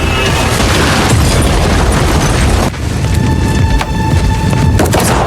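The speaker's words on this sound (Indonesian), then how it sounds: "Namun di saat rumahnya meledak" A house blows up in a film scene, a loud, sustained roaring explosion with crackling debris and a second burst midway, filling the whole clip without speech.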